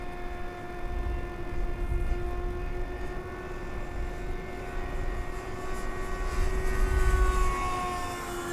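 A Flite Test Viggen radio-controlled model jet with an electric ducted fan flies overhead, giving a steady high-pitched whine over gusty wind noise, the pitch drifting slightly as it passes.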